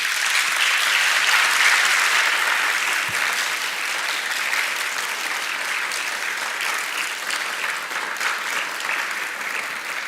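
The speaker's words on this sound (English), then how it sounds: "Let's give them an applause as well." A large audience at a university graduation ceremony gives a sustained, even round of applause that fills the hall with dense clapping for about ten seconds, fading slightly toward the end.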